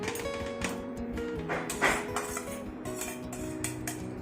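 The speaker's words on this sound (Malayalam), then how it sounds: "അത് നമ്മൾ ഈ മിക്സിയിലേക്ക് ഇടുന്നു" Small cut pieces of jackfruit tumble into a mixer jar, giving clinking, knocking contacts against the container with a sharper clatter near the middle, close and fairly quiet, with no talking.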